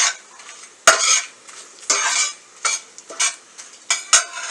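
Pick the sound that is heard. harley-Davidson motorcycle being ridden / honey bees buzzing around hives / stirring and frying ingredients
stirring and frying ingredients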